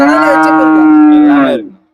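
Jersey cow at a cattle market letting out a single loud, close moo that holds a steady tone for about a second and a half before trailing off into silence.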